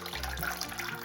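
Chival leafy greens being washed in water, a steady splashing and running-water wash close by that carries through the whole short moment with no voices.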